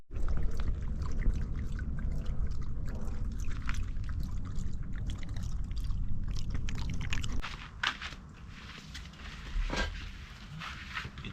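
Water poured while a bucket is washed out outdoors, a loud continuous splashing pour that eases and thins into trickles after about seven seconds.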